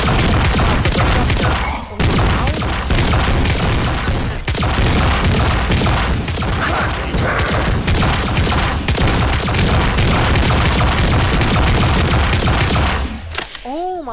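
Rapid, relentless bursts of gunfire from an overpowered gun in a VRChat zombie survival game, loud and close, firing almost continuously before a brief pause, with voices talking over the shooting.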